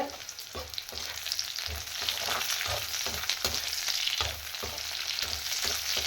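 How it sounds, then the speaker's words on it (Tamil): Green chillies sizzle steadily in hot oil for a tangy, spicy chilli mandi, with a constant crackling hiss and periodic soft stirring scrapes roughly every half second, close and unbroken, with no voices. "பச்சை மிளகா கொஞ்சம் எண்ணெயில் வதங்கட்டும்"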